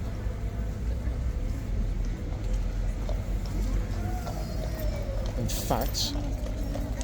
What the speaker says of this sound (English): now last couple of horse coming to the front